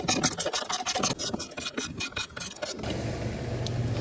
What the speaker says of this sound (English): I'm going to use a 10 millimeter deep socket here from Koken.